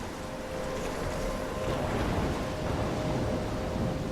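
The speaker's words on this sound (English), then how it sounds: "I'm trapped in a storm?" A thunderstorm in the video game Life is Strange rumbles steadily with heavy rain and wind, a loud, unbroken wash of storm noise and no distinct thunderclaps.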